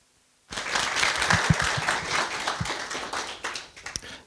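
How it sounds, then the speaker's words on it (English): An audience at a talk on the history of Paris applauds the speakers. The clapping starts abruptly after a moment of silence, a steady dense round that tapers off slightly toward the end. "Please join me in giving them a big round of applause."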